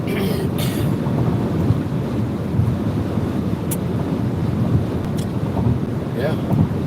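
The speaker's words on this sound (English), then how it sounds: "It's super windy right here, though." Strong wind roars and buffets steadily against the microphone while driving a van down a straight road, a constant low rumbling gust with no pauses.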